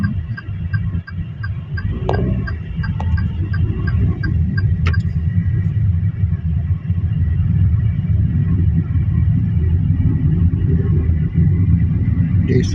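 Heavy road traffic crawls through a congested town centre in Tanah Merah, giving a steady low rumble and hum of idling and creeping vehicles with occasional faint clicks and a brief clatter, and no talk.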